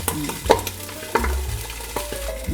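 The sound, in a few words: fish frying in a pan, oil spattering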